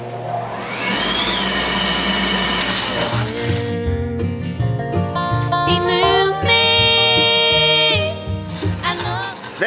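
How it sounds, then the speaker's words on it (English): A bandsaw trims excess wood from a custom 12-string dreadnought guitar body while a shop vacuum system runs, making a loud, steady mechanical whine and roar with shifting tonal hums throughout. "You can see we're at the bandsaw."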